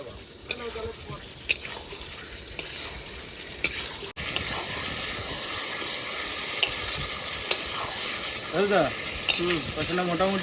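Pangas fish sizzles in a pan of spicy fried-down masala, a continuous frying hiss broken by sharp clacks of a stirring spoon, with faint voices near the end.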